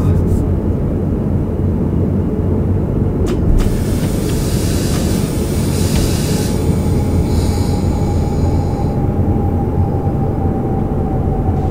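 A train in Train Simulator 2016 rumbles loudly and continuously on the rails, a dense, heavy rolling noise with a faint squealing tone joining partway through; no clear individual clacks stand out.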